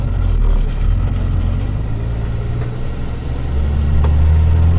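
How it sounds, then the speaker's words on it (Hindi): A loaded 22-wheel trailer truck rolls onto a weighbridge with its diesel engine rumbling loud and close in a steady low drone that swells slightly near the end. "और बाईस चक्का है दोस्तों बहुत लंबा गाड़ी है"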